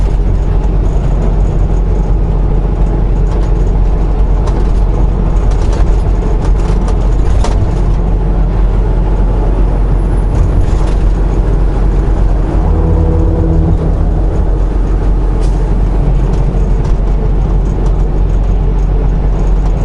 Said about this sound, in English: Looks like the traffic going north is already very heavy.